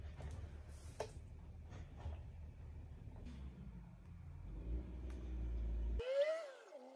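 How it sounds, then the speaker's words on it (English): A garbage truck works on the road just outside a bedroom window, a faint low engine rumble with scattered knocks that swells to a louder drone near the end, then cuts to a whining mechanical sweep. "my window is right by the road, so I just hear a big truck"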